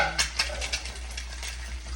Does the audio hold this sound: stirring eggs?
yes